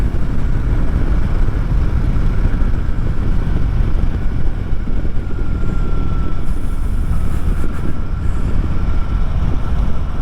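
A Harley-Davidson Heritage Classic with the 114 engine cruises in fifth gear, a steady low engine drone mixed with heavy wind rush, loud and unbroken throughout with no talking.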